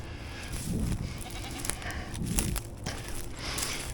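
Goats bleating on a farm, two or three nearby calls over rustling and shuffling footsteps, with no talk.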